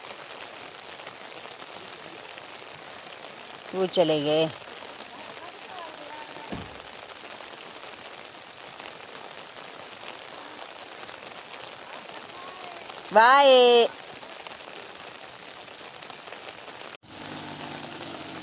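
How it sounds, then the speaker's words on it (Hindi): Steady rain patters on a surface throughout, with a couple of brief loud horn-like bursts and a short spoken phrase. "बारिश तो रुक ही नहीं रही है, और लगातार लगी हुई है बारिश"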